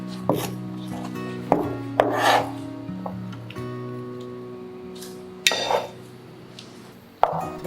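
Half an onion is chopped with a knife on a board in a few separated, close strikes and scraping cuts, with a sustained musical tone running underneath.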